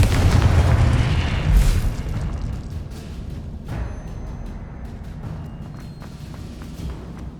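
Confringo blasting spell going off in Hogwarts Legacy, a heavy booming explosion at the start that rumbles and fades into lingering debris and ambient game noise.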